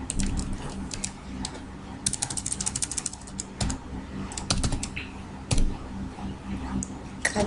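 Fingers clatter across a computer keyboard in quick, uneven bursts of close, crisp keystrokes separated by short pauses.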